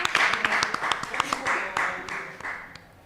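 Scattered, uneven clapping from a small group rises under overlapping talk during a livestreamed chat, with individual hand claps audible through the voices.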